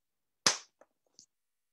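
A group clapping once together in a music lesson on crotchets: a single sharp, close clap, followed by a couple of faint stray claps.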